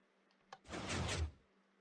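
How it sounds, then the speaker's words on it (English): Minecraft redstone 2x2 hidden piston door closing: a faint click, then a single broad mechanical whoosh-slide lasting about three-quarters of a second, fairly close and alone with no talk. "That is our 2x2 hidden piston door."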